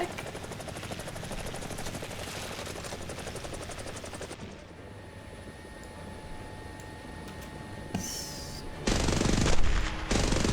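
A multi-barrel machine gun with eight or nine guns fires in a video game on a dev server test build. The loud sustained burst stops abruptly partway through, leaving engine drone, before heavy firing bursts return near the end.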